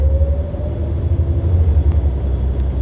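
An MCI J4500 coach working as a Yankee Bus Lines Red Line shuttle between Braintree and North Quincy rumbles from inside the cabin while riding, a steady deep engine drone with road noise and no talk.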